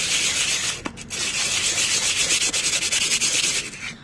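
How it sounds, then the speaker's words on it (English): Polish paper rubbed by hand across Bajaj Dominar 400 front brake pads, a steady, close scraping hiss that runs through the clip with rhythmic strokes and one brief knock near the start. "I rub the polish paper directly"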